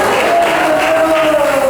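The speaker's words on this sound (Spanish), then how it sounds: "Denle un fuerte aplauso para Jesús." A church congregation applauds for Jesus, a loud, continuous wash of clapping and crowd noise with a held tone running underneath.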